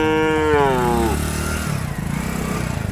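A calf lows once with a long, loud moo at the Kundharapalli cattle market, followed by the rumble of an engine and crowd noise nearby.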